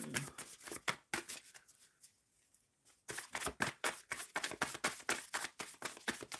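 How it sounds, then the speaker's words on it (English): Tarot deck being shuffled by hand: a long run of crisp, rapid card riffles and slaps, close and loud, broken by a brief quiet pause, with no talking. "Shuffling for M Love 1010"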